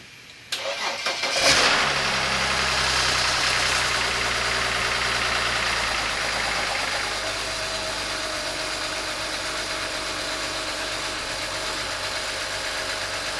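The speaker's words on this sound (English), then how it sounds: "So why don't we go ahead and start up the engine" A BMW 335i wagon engine cranks briefly and roars to life, then settles into a steady, close idle that continues for the rest of the clip.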